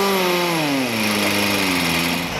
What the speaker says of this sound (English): It's a vane motor. Has no torque at all. So it takes a lot of air to get the thing going.